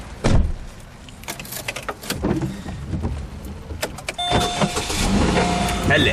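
A car whose engine is knocking: a few sharp door thumps and clunks, then the engine starts and runs with a steady hum, close by, with voices now and then.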